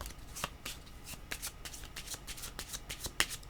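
A tarot deck being shuffled up close, a quick, even series of crisp card slaps and riffles, with one sharper snap near the end and no voice present.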